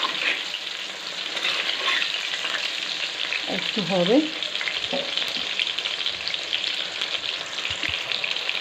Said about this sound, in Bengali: নিয়ে সব পকোড়াগুলো আমি ভেজে নেব